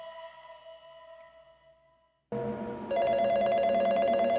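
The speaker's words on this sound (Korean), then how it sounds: "전화가 왔어요." Telephone in a Five Nights at Freddy's fan game rings after a quiet tonal passage, starting abruptly and growing louder with a repeating electronic ring pattern, loud and close with no talk over it.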